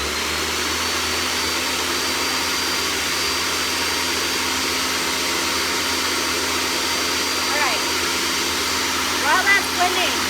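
A blender whirring steadily while blending mac and cheese sauce, a loud continuous motor drone holding one even pitch for ten seconds, with faint clinks near the end.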